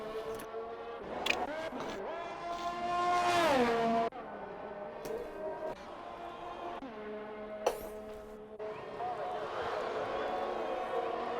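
Formula 1 race car engines in the F1 2021 video game at the Saudi Arabian GP, whining high and sweeping up and down through gear changes, with a commentator talking over them throughout.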